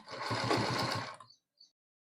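Sewing machine stitching a gents shirt runs in one short, fast, even burst of about a second, then stops, followed by a faint click.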